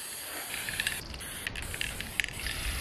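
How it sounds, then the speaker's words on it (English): Aerosol spray paint hisses from a can onto a Stanley cup in short, uneven bursts with small clicks of the nozzle between them, close and fairly loud, nobody talking. "I've used different spray paints before, but this is what I have today."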